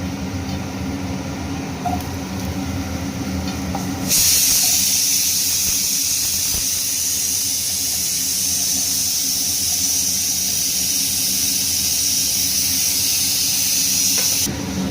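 Raw plantain pieces go into hot oil already holding browned lentil seasoning. After a quieter start, a loud, sudden sizzle bursts in and settles into a steady, bright frying hiss that lasts to the end.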